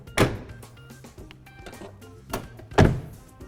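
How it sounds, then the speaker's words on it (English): The doors of a white 2017 GMC Explorer Limited SE low-top nine-passenger conversion van with sound-deadened floors are shut. Two solid, muffled thunks land about two and a half seconds apart, with quieter rattles and handling sounds between them. "so I'll shut these doors up right here"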